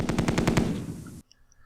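Infantry squads open fire in the wargame Tigers on the Hunt: a rapid, evenly spaced burst of machine-gun shots for about a second, loud and close, then a sudden cut to near silence with faint electronic tones.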